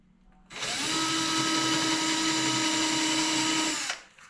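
A power drill with a countersink bit boring screw holes in wood, one steady high whine lasting about three seconds, close and alone, spinning up and cutting off cleanly.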